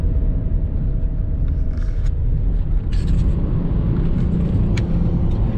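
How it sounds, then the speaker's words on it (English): Inside a truck cab on the road after a diesel fill-up, a steady low engine and road rumble drones on without a break. A few faint knocks and rattles sit on top of it. "I'm in the truck right now, just coming back from, I took this out to fill it up with diesel"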